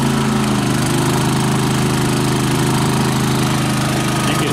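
Champion 3500 watt dual fuel generator engine droning steadily and loudly up close, running faster as it takes on extra electrical load from a heater and fan.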